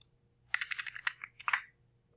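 Quick keystrokes on a computer keyboard come as a short burst of about a dozen close, crisp clicks in two quick runs, separated by a brief pause, with no voices.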